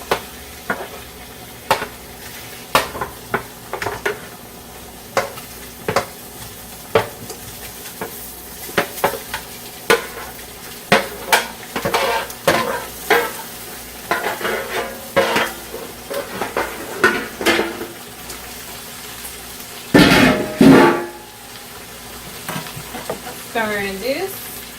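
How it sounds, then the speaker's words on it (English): Sausages sizzle in a pot while a utensil stirs and knocks against the metal in repeated clanks and scrapes, steady frying hiss underneath, with a louder burst of sizzling and clatter near the end. "At this point, I want to start putting my sausages"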